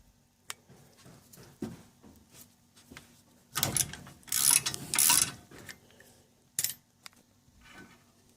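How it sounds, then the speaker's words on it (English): Metal tools clank and ratchet against the suspension of a 1995 Holden Rodeo 2x4 while the lower ball joint is worked loose, with scattered taps and a burst of louder scraping, banging clatter midway, close and without talk. "I'm going to see if I can just turn this and get the lower ball joint out."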